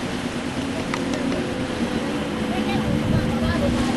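A motorboat engine drones steadily nearby as the boat pulls away, a constant low hum with wind and water noise around it, while voices murmur faintly in the background.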